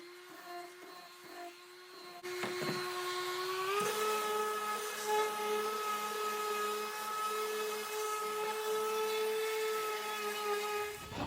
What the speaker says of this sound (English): and then we're gonna sand the back